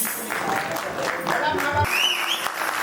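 Audience applause welcoming a singer onto the stage at a Hindi stage show, a dense clapping wash mixed with crowd noise and some voices, fairly loud and steady.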